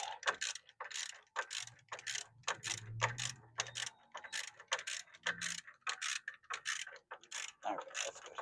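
A ratchet with an 18 mm socket cranks a ball joint nut loose on a 2018 Chevy Colorado ZR2, giving a rapid, even run of close, crisp clicking strokes with a low metallic groan partway through.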